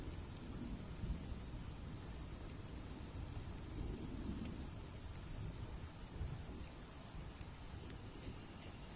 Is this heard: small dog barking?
no